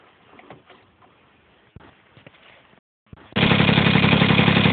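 A Honda NC50 Express moped fitted with a new muffler starts up loud and close after quiet rustling and a short pause, then idles steadily.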